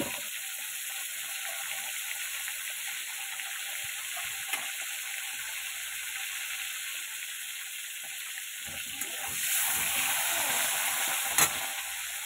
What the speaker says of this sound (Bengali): তেল পটল করার পটলগুলো ভেজে নেবো।